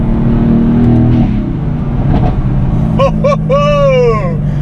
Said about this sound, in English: You can hear the rumble that sounds like a old-fashioned World War II aeroplane